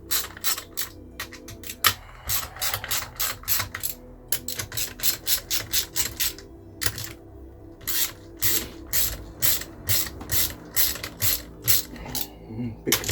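A hand ratchet rapidly clicks while loosening bolts on a scrap Reliant Super Van engine during a teardown, bursts of fast metallic pawl ticking with short pauses between them, close and with no one talking.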